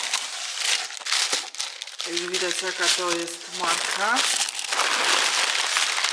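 Paper packaging crackles and crinkles while a parcel is unwrapped, with someone talking briefly over the close rustling.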